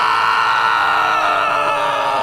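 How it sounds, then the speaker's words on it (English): The Wilhelm scream, a classic horror-movie scream sound effect, rings out loud and sustained for a couple of seconds, alone without speech. "That's the Wilhelm scream."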